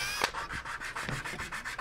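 Wood sanded by hand with a steady back-and-forth rubbing rhythm, about ten even strokes in under two seconds, close and clear with no talk.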